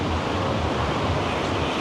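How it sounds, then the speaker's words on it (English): Steady roaring wind at a beach in Da Nang, Vietnam, buffets the microphone with a constant rush of broadband noise during a stormy week, with no voices. "it's very windy today"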